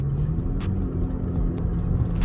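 A V6 Camaro fitted with an 80mm throttle body idles and revs with a deep, steady rumble, loud and close, with light rattling ticks over the engine note.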